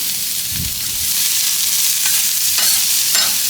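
White onion frying in safflower oil on a flat griddle gives a loud, continuous hissing sizzle close up, with a few brief scrapes and knocks from a spatula and no voices.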